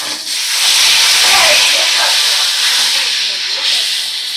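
Fish pieces sizzle in hot oil in a pan while browning golden on one side, a loud, steady frying hiss that rises early and then holds fairly constant.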